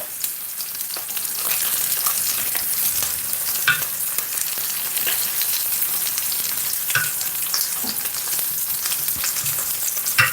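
Bacon fries in a pan, giving a loud, continuous sizzle and crackle close up with scattered pops, and no talking.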